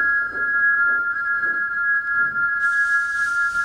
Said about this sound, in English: Thomas's whistle echoes.